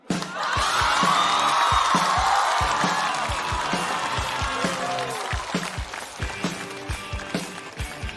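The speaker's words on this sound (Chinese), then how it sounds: "掌声有请多" A studio audience at a stand-up comedy competition breaks into loud applause and cheering that swells quickly, then gradually thins into scattered clapping and footsteps as a performer walks on.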